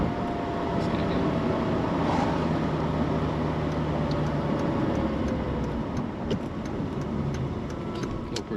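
A Mercedes E420 with a manual transmission swap cruises on the freeway, giving a steady engine drone and road roar from inside the cabin, with faint voices now and then.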